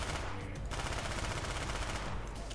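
Rapid-fire gun shooting in Black Ops, a dense continuous burst of automatic fire at moderate level with a brief gap near the middle, no speech.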